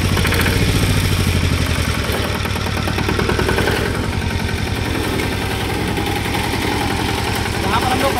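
A reaper-binder farm machine's engine runs steadily at close range, a continuous throbbing mechanical drone that starts loud and settles into an even idle.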